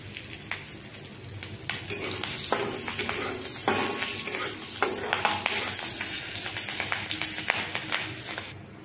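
One dried and three green chillies sizzle in hot oil in a pan, a steady crackling fry broken by repeated scrapes and clinks of a spatula as they are stirred, close and moderately loud.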